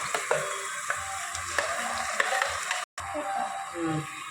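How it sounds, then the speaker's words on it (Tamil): Ground masala paste sizzles in ghee and oil for biryani, a steady crackling fry with small pops throughout, briefly cut off near the end before resuming. "நெய் ஆயில் ஊற்றி இந்த மசாலா அரைச்சது உள்ளே போட்டுக்கலாம்"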